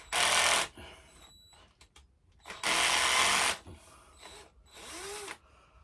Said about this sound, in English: They get out the drill now.